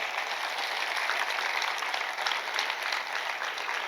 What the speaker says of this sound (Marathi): आपण सगळे टाळ्या वाजूया प्रभूसाठी जोरदार